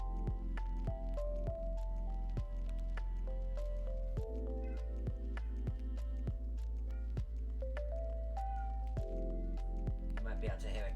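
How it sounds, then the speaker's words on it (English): A cat meows repeatedly in the background, its calls blending into a steady, continuous tonal backdrop with regular soft taps throughout. "You might be able to hear a cat meowing in the background."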